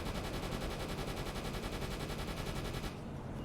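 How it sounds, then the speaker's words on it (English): Sustained rapid machine-gun fire from a U-boat's deck guns engaging a Short Sunderland aircraft in the UBOAT game, loud and continuous before cutting off abruptly near the end. "Try and get the machine guns to bear."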